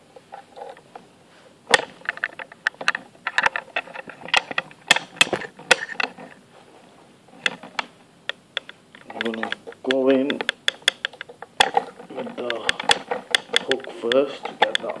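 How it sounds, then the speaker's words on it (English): An American-style Yale lock is picked with a medium tension wrench, giving dense, close, irregular metallic clicks and ticks from the pick and pins, with a voice speaking at times alongside the clicking. "let's get on with the picking. So I'll be using like a medium tension wrench."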